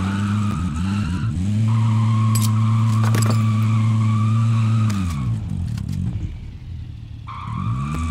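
Engine of a car driven in the video game Warzone, a loud revving drone that holds steady, then drops away with a tire skid before picking back up near the end.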